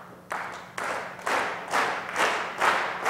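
Audience clapping together in a demonstration, a series of distinct bursts of applause that start and stop roughly every half second, growing fuller and louder with each round.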